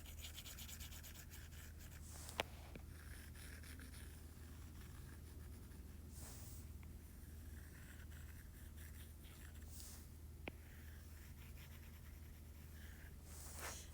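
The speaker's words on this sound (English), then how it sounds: "I'm gonna come in with my eraser and clean up" Pencil eraser rubbing back and forth on paper while cleaning up a drawing, a soft continuous scrubbing close by over a steady low hum, with a couple of faint taps.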